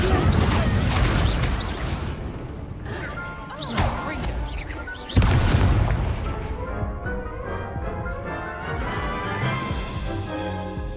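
The Incendio fire spell cast in the Hogwarts Legacy video game: sharp whooshing bursts and crackling blasts, with a strong impact midway that fades into a ringing tail.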